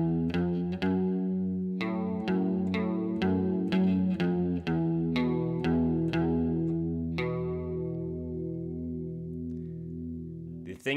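A riff played on electric guitar through a chorus effect, a repeating run of plucked notes in steady rhythm with a shimmering, warbling tone, played alone and ringing out at the end.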